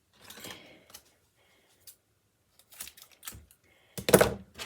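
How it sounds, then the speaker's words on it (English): Tape being cut for a mold-making project: a few short snipping and tearing bursts spread across the moment, quiet at first with a louder, sharper cut near the end, no talk. "So they take the tape, right? And they cut it."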